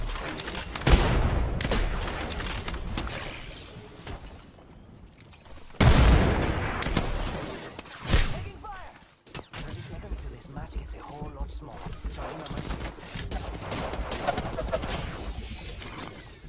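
Gunfire in the Apex Legends video game comes in several bursts and sharp cracks, with louder volleys around the middle and quieter spells between, mixed with other battle noise.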